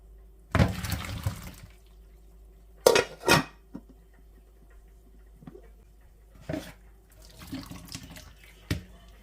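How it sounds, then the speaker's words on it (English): Boiled potatoes are drained from a pot into a sink: water pours and splashes in short bursts, with metal pot clanks and knocks scattered between quieter stretches. "I'm going to go ahead and drain the potatoes"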